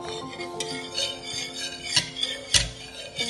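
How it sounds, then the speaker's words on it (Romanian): A utensil stirring dry ingredients (flour, sugar, salt, baking powder) into liquid waffle batter of egg yolks, milk and oil, with scraping and irregular clinks against a bowl, close and moderately loud, no talk. "Acum amestecăm produsele uscate cu cele lichide"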